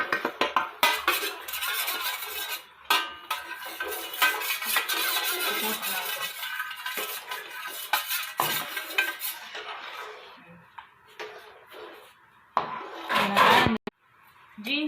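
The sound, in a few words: stirring kesari in a pan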